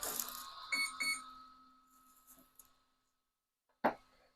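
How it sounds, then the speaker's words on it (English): Two short electronic beeps close together from an RC airplane's electronic speed controller entering programming mode, a few fainter tones, a pause, then one louder chirp, all crisp and close with no talking. "So you hear that 2 beeps."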